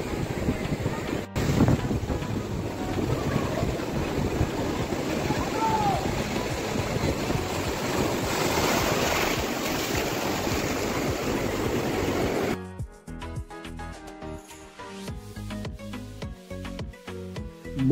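Rough sea surf at the Digha river mouth roars as a steady, loud wash of breaking waves mixed with wind buffeting the microphone, cut off near the end by a sudden shift to tonal, music-like sound.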